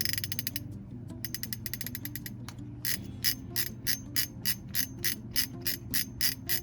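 A Shimano Vanford 2024 spinning reel with its drag slipping, giving a rapid metallic ratcheting clicking that starts fast and buzzy, then settles into evenly spaced bursts of clicks, close and alone.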